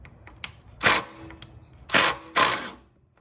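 A car heat shield bolt is loosened with a 10mm bit on a ratcheting driver, giving three close, loud bursts of rapid mechanical clicking with a few faint ticks between them.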